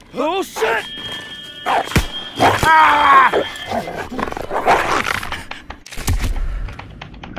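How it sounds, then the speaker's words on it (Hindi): German shepherd dogs attack in the World War II shooter Call of Duty WW2, with snarling growls and yelping cries over heavy thuds and chaotic game noise, fairly loud and close. "यहाँ पे ये कुत्तों का काटना"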